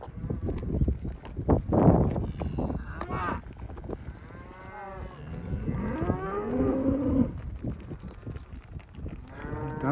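A herd of cattle moos repeatedly as it is driven along a highway from canyon pasture, several overlapping calls near and far, with faint hoof clops underneath.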